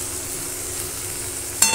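Shrimp frying in hot oil give a steady, even sizzle for nearly two seconds, ending with a sudden clink and a brighter crackle as something touches the pan.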